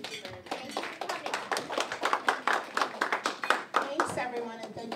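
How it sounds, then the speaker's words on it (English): Senior-center audience clapping in a steady, lively round of applause that fills the room, with scattered voices mixed in. "let's give them a round of applause"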